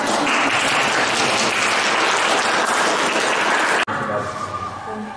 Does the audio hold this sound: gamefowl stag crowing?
no